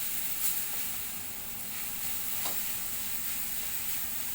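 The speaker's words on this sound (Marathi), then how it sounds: "तिखट, धना पावडर, चांगली परतून घेऊया." Chili powder and coriander powder sauté in a pan for a dhaba-style garlic methi dish, giving a soft, continuous sizzle and hiss with faint scrapes of stirring, no voices.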